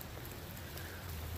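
Steady rain falls outside a garage, a faint, even hiss of drops with a low hum beneath and no voices.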